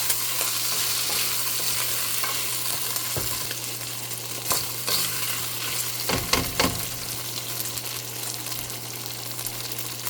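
Sausage sizzles in a hot pan while stir-fried vegetables cook, a steady broadband fry with a few louder clinks and stirring scrapes near the middle, close and continuous with no talking.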